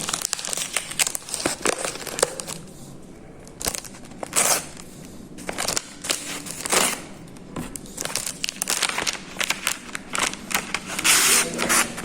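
A package is torn open with repeated loud bursts of crinkling and rustling wrapping, irregular and close, with brief pauses between handling.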